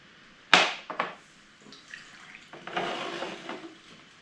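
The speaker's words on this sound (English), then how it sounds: "And then a super close shot of pouring." Dark beer poured close up into a glass, a sharp splash at the start followed by a few quieter glugs and a steady fizzing, bubbly trickle that builds toward the end, heard alone without talk.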